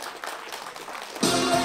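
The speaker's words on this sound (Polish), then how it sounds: "Brawa moi drodzy, wielkie brawa!" Applause from the crowd at a Polish cross-country mountain bike championship podium ceremony in Mrągowo, starting faintly, then swelling into loud, dense clapping for the final half second.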